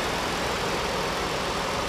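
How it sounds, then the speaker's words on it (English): A 2011 Ford Explorer engine idles steadily in a close, continuous broadband hum with no pauses or talk. "There's the engine, running nice and smooth."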